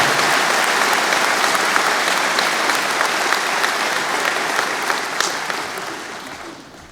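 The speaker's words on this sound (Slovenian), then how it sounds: "Zaploskajmo slovenskim športnikom" Sustained, loud applause from a large audience at a Slovenian party election convention, dense clapping that holds steady for several seconds before fading slightly toward the end.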